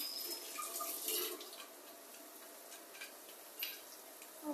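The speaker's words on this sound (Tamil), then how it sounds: "அரிசி கழுவி வச்சுக்கலாம்." Rice is washed in water in a home kitchen, with faint sloshing, trickles and a few soft drips, quiet and close.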